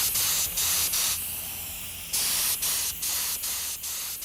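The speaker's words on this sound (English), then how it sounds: "Spray some calls for you. All right, this is the lacquer that I use. It's a pre-cat lacquer." Pre-catalyzed lacquer hisses from a spray gun onto wooden game calls in short repeated bursts, with one longer continuous pass in the middle.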